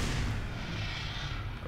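A grenade blast in the video game Black Mesa, a broad, loud rumbling boom that fills the short span and decays slowly with no talking over it.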